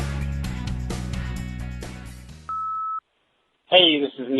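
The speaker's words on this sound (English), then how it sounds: "Now it's your turn to speak at the beep." Music fades out, then a single clean electronic voicemail beep sounds for half a second, followed by silence and a person starting to talk.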